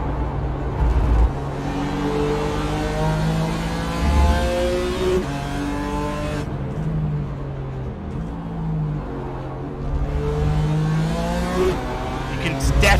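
Onboard engine of Lewis Rose's race car during the Performance Link round five final heading to Motegi, loud and close, revving up and down through gear changes and corners, with a commentator talking over it.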